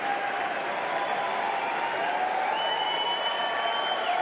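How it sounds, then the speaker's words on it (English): Steady applause and cheering from an audience at a Sony PlayStation press event, a constant dense wash of clapping with crowd noise and a faint tone running through it. "All the constant cheering."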